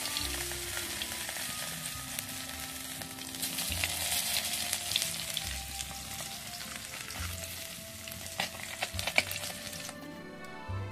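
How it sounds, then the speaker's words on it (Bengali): Parshe fish fry in hot oil in a wok, a steady dense sizzle and crackle running throughout at close range, with a few sharper spits and pops near the end. "কড়াইতে তেল গরম হয়ে গেলে আপনারা মাছটা ভেজে দেবেন"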